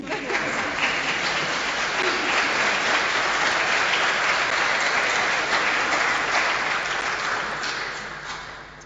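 Audience applauding at a Christmas carol concert by the Mosaic Choir, a dense, steady wash of clapping from a sizeable crowd that holds for most of the stretch before tapering off at the end.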